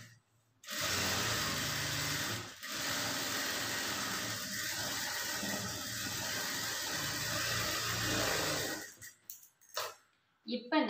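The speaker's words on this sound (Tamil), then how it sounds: "டாப் ஸ்டிச் வந்து லைனிங் கிளாத் மேலே பட்டுற மாதிரி போட்டுக்குங்க" An electric sewing machine top-stitches the lining cloth of a blouse, a steady close whirring hum that runs for about eight seconds with one brief pause, then stops into quiet handling noises.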